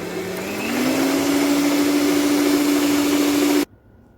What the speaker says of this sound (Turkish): Şimdi yüksek devirde çırpalım.